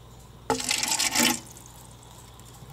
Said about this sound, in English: so then you just pour nutrients into there